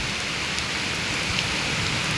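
Torrential rain drums down without pause, a thick, even wash of close hiss and patter on surfaces, with no talking heard.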